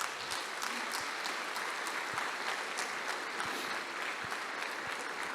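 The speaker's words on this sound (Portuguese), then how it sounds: "Irmãos, uma salva de palmas para esses irmãos" A church congregation claps together in a dense, steady burst of applause that fills the room evenly, with no voices over it.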